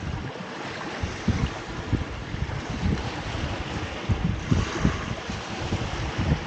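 Turbulent riptide water churns around a small fishing boat off the Isle of Wight, a rough continuous wash with irregular slapping thumps against the hull and gusty wind buffeting the microphone.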